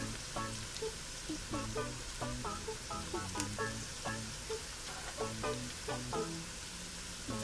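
Four large chopped garlic cloves fry with translucent onions in a pan, giving a steady close sizzle broken by a regular pattern of soft clattering pulses.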